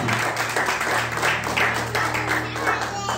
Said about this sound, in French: Nous acclamons très fort pour la prophétie.